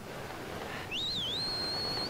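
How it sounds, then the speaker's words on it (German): A single clear, high whistle from Link in the video game Zelda Skyward Sword rises, wavers and then holds steady, fairly loud over a faint hiss of rain. "das Pfeifen könnte ein bisschen laut gewesen sein."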